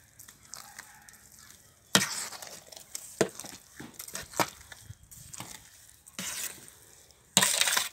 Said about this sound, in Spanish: Y removemos.